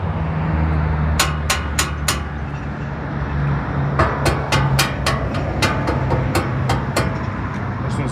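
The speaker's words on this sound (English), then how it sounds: "these are rattling against the bar here." Aftermarket 4x4 step sides for an OBS Chevrolet Suburban rattle against their mounting bar, giving sharp metallic clanks, a few in a quick cluster and then a longer run of irregular knocks over a steady low engine hum.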